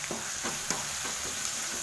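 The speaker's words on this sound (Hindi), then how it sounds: "इसको हमें तब तक भूनना है जब तक टमाटर सॉफ्ट ना हो जाए।" Tomatoes, onion and garlic sizzle steadily in a pan with a little salt, with a soft continuous fry and faint scraping strokes of stirring at a slow rhythm, fairly quiet and with no talk.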